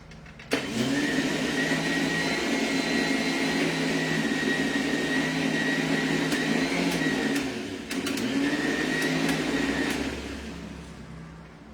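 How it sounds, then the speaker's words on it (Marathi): Kitchen mixer grinder blending mawa for kulfi, a loud continuous motor whine with a steady pitch, briefly dipping near the end before running on, then winding down, with faint clicks over it. "फक्त मावा मिक्स करण्यासाठी मी मिक्सरवर करतेय."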